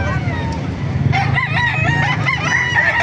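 Chickens at a poultry market in Calumpit, Bulacan, with a rooster crowing loudly and nearby birds clucking over a busy, steady crowd hum.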